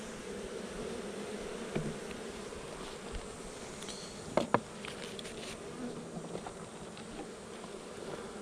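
Honeybees buzz around an open hive during a honey super addition, a steady low hum with a few louder passes of bees flying close to the ear and faint knocks of frames.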